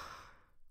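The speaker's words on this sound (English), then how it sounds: "Yes, I had to yawn" A single close, breathy exhale like a yawn or sigh, loud at the start and fading over under a second, with no talk.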